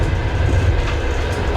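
A train rolling along the BAM railway in Russia, a loud continuous rumble of wheels and wagons with faint clickety-clack, close and steady throughout.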